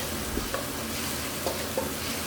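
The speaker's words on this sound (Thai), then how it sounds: "จากนั้นผัดต่อสักครู่ให้เข้ากันดีนะครับ" Canned fish stir-fried with spices, sugar and torn kaffir lime leaves in a hot pan over high heat: a steady sizzle with a few light scraping stirs of the spatula, close up and with no talk.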